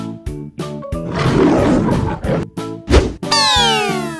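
A lion roars in a sound effect for a children's animation: one long, loud, rasping roar surges over a bouncy rhythmic music track and ends with a springy boing-like sweep.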